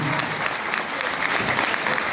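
A crowd applauds a mayoral candidate called onto the stage at a Turkish political rally, steady loud clapping filling the whole stretch without pause.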